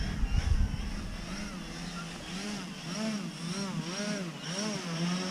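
A radio-controlled 3D aerobatic airplane flying in gusty wind, its propeller and motor droning steadily with repeated rising and falling pitch sweeps as it passes and maneuvers nearby, with a thump of wind at the start.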